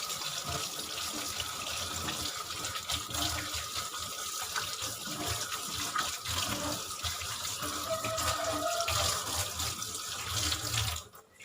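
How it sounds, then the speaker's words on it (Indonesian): A tap runs continuously while hands are washed under the flowing water, a steady close hiss and splatter that cuts off abruptly at the end. "Lalu bersihkan dengan air mengalir."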